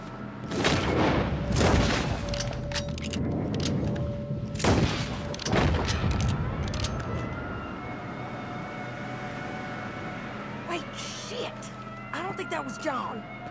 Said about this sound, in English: Take the shot, Arthur.